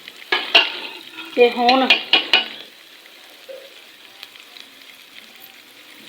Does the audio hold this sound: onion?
yes